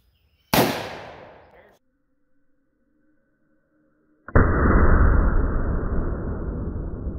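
Two blasts from a large-caliber magnum revolver, .454 or .460, fired double action outdoors: a sharp, very loud crack ringing down over a second, then silence, then a second booming shot with a sustained roar.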